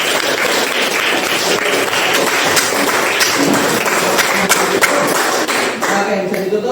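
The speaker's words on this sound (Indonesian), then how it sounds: "tepuk tangan" Classroom of students clapping for their classmates, loud, close and sustained applause that fills the whole stretch at an even level with sharp individual claps poking through.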